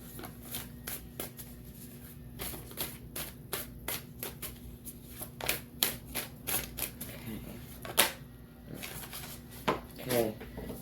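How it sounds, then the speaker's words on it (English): Tarot cards riffle and snap in quick irregular bursts over about ten seconds, close and fairly quiet, with a faint steady hum behind them. "your card just popped out as I was shuffling"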